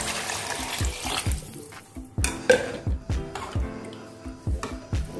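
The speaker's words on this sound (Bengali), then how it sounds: "এখন আমি এর মধ্যে পরিমাণ মতো জল দিয়ে দেব" Water poured into a pot of lentils and vegetables already cooked together for khichri, splashing in uneven bursts with small clinks of the pot and utensil, close and fairly quiet.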